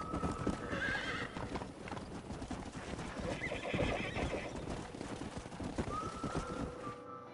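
Horses in the Red Dead Redemption video game neigh and whinny while hooves clip-clop steadily, loud and close throughout, with high whinnies near the start and end over dense hoof beats.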